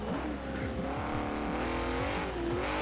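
BMW E46 M3 GTR race engine in Forza Horizon 4, a steady loud drone with rising and falling revs throughout, close and continuous with no talking.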